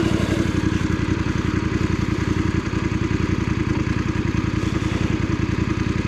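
A motorcycle engine idles at low speed with a steady, rapid putter while the bike is turned and parked, loud and close, with no talk.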